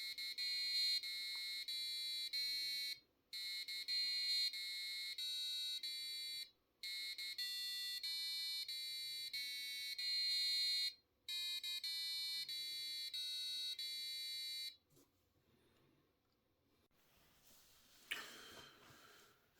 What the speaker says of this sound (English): this is project 2, the buzzer, and it sings happy birthday